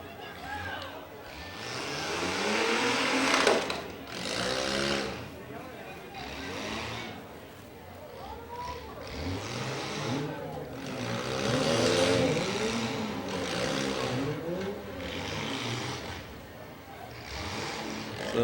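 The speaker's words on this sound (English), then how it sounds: "I believe that's the only vehicle running." A demolition derby car's engine idles and revs at a county fair arena, a steady mid-pitched drone under loud announcer commentary over the PA.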